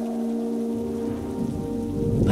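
Rain falls steadily on a rainy night in an animated mystery story, a constant close patter that swells slightly toward the end, over a faint sustained tonal hum.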